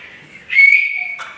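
A sharp, sustained whistle rises suddenly and holds steady for most of a second, then a brief second burst follows; loud and close, with no talking.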